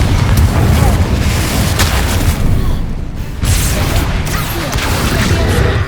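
Confringo spell explosions in Hogwarts Legacy, loud dense booming blasts with crackling debris that fill the whole stretch, with a brief dip partway through before the next blast.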